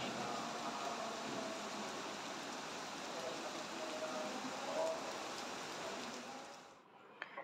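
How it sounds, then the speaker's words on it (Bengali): Heavy evening downpour heard from a balcony, a dense, steady rushing hiss of rain that fills the whole stretch without talk, easing slightly near the end. "এই সন্ধ্যার আগ দিয়ে বৃষ্টি কিন্তু খুব জোরেই নেমেছে, একদম ঝুম বৃষ্টি।"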